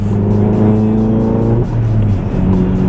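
A loud Volkswagen MK7 GTI turbo engine with an aftermarket Injen intake rumbles steadily with a deep, throaty tone, briefly dipping in pitch as it shifts, then settling back into a strong growl.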